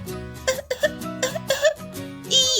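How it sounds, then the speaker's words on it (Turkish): Coughing in a children's pretend play scene about a garage fire, several short bursts in a row, close and fairly loud, with a higher-pitched vocal sound at the end. "biraz öksürüğüm var."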